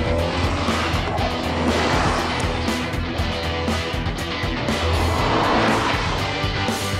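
A 2010 Volkswagen Golf GTI hot hatch drives with a continuous loud engine and road roar and a few brief tyre squeals over the steady rush.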